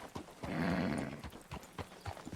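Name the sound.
horse hooves clip-clopping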